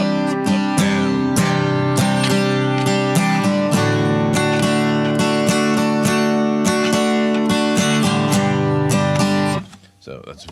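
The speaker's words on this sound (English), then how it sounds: "So that's very kind of classic foundational, beginner strumming pattern." Acoustic guitar strummed in a classic beginner down-down-up-up-down pattern, steady repeated chord strokes at an even rhythm, loud and close, played alone without talk before stopping abruptly near the end.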